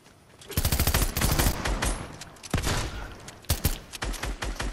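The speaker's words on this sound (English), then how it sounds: "Why are you shooting at me?" Rapid bursts of automatic gunfire in a multiplayer shooter game, loud and close, with dense volleys broken by short pauses and renewed sustained fire.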